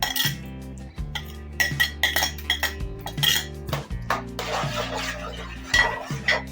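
Fried cashews and vegetables tipped into a pot of vegetable dal, with repeated metallic clinks and scrapes of a spoon against the pot, close and fairly clear over steady background music.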